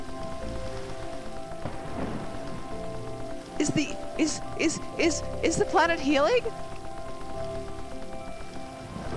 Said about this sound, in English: Rain is giving us resources for free? Rain restores soil, and it fills rivers too.